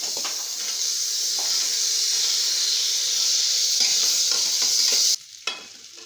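Spices and masala with homemade black masala and turmeric sautéing in a pan for masale bhat, a steady loud sizzle and hiss with stirring scrapes, cutting off abruptly near the end.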